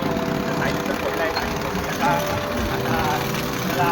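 A Bullet motorcycle engine idles with its silencer fallen off, making a continuous rough, loud, uneven rumble that runs throughout.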